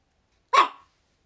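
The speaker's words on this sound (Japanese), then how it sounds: "ワンワンワンワン吠えて近所迷惑だって分かってんのか。" A single short, sharp dog bark sounds close and loud against complete silence.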